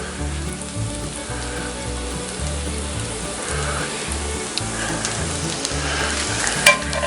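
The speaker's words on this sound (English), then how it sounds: "We just want to slightly soften this garlic. We slide it back over on the fire now." Garlic softens in butter in a pan over an open fire, giving a steady, close crackling sizzle with faint scraping and occasional small pops, no talk over it.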